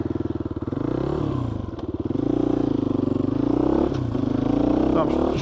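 A GPX FSE250e trail motorcycle pulls away on Welsh trails, its single-cylinder engine putting out a loud, close, steady pulsing drone that rises and dips as it rides off, with no speech.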